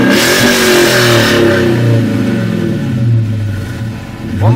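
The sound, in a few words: Dodge Challenger R/T engine revving, MagnaFlow exhaust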